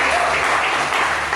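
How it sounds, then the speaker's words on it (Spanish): A church congregation at a Sunday general service breaks into loud, sustained applause, a thick continuous clatter of many hands filling the room. "Denle un aplauso al Señor."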